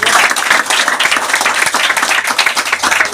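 A business gathering crowd claps loudly and energetically, the dense, close clatter of many hands pulsing in slight waves across the whole moment, with no speech over it.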